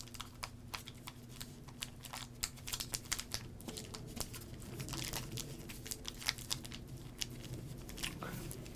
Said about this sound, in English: Open up these packs.